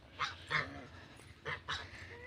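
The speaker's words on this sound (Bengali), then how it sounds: "এই দেখ কি সুন্দর হাঁস।" Large ducks give several short honking quacks in two loose clusters. The calls are faint and distant, with no talking.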